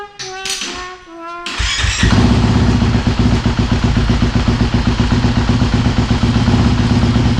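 A 2024 Kawasaki KX250F fuel-injected dirt bike fires up on its electric start after a few quiet clicks, then settles into a loud, steady, close-up idle with a rapid, even rhythm.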